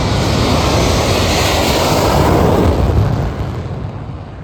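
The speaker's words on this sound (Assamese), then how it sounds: "এইফালে আকাশত উৰা মাৰিছে ৰাফেল, সুখোই, তেজাছ আদি 16খন যুঁজাৰু বিমান।" Loud, sustained roar of Rafale, Sukhoi and Tejas fighter jets passing overhead during an Air Force display on a highway emergency landing strip in Northeast India, a broad rumble that fades slightly toward the end.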